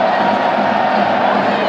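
A stadium crowd at a rugby league match cheers and roars through a Mexican wave, a dense, loud wash of voices that carries on without a break.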